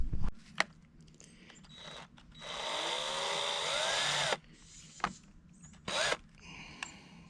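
Power drill boring a hole for rebar into the center of a wooden porch post while framing a porch roof; a steady whirring run of about two seconds at close range, set between short knocks and brief bursts of tool noise.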